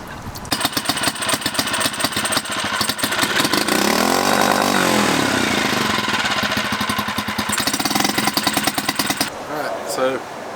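A repaired boat outboard motor runs loud and close, a rough rattling engine drone that swells and revs in the middle before cutting off near the end.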